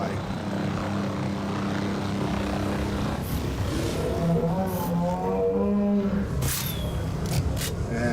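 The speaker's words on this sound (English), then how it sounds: "let's right click and take control of the helicopter" Helicopter in Jurassic World Evolution 2 flying steadily, a continuous rotor and engine drone with shifting pitch, loud and close, alongside game effects and faint talk.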